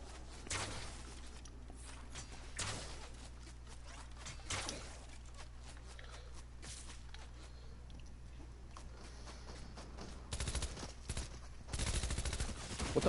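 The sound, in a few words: gunfire in the video game Fortnite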